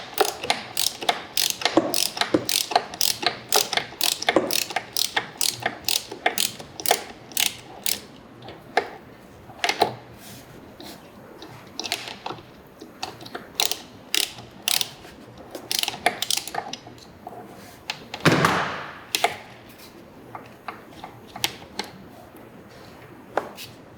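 A ratchet with a 3/8 drive socket removing the steering damper on a 2018 BMW S1000RR, heard as quick, rhythmic clicking strokes close up. Pauses and some metallic handling noise follow, plus a brief louder rustle near the end.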